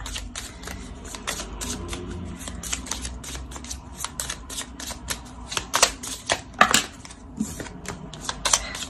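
Tarot cards are shuffled and drawn by hand, a close run of quick papery flicks and riffles that builds into denser, louder snaps near the end, with no one speaking.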